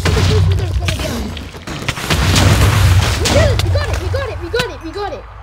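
Wither boss explosions in the Minecraft video game, heavy booming blasts that come one after another at close range, with whooshing game effects between them and a loud, dense mix throughout.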